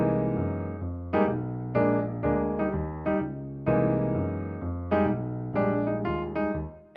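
Piano chords voiced with added extensions, played in a slow, sustained rhythmic pattern of struck chords that ring and decay, clear and close with no voice over them.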